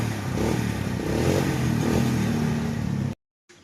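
A restored motorcycle engine runs loud and close in a steady, rough rumble for about three seconds, then cuts out abruptly into silence before a brief faint return.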